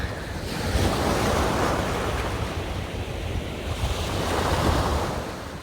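Sea waves wash onto a beach in Turkey in March, a soft rolling surf that swells and recedes twice, with light wind buffeting the microphone throughout.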